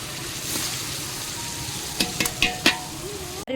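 Tomato and green chili frying in a pan for mutton curry, a steady close sizzle with a few sharp spatula scrapes and taps near the end.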